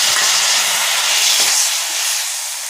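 Hot water, red with mixed-in food colouring, pours steadily into a cooking pot as a broad, close, continuous hissing rush that tapers off near the end, with no talking.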